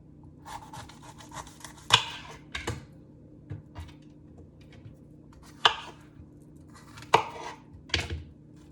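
Knife coring bell peppers on a kitchen cutting board, giving scattered scraping and cutting sounds with a few sharper knocks, close and moderately quiet, no talking.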